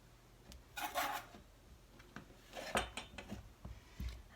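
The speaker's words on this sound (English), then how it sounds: "I'll go ahead and score the sides that are beveled." A scoring tool scratches the beveled sides of a hand-built clay mug: a few short, quiet rasping strokes in separate bursts, close and dry, with no talking.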